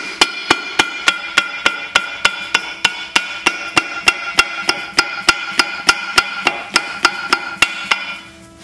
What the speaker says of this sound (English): Lightly tap. And this will make your gasket.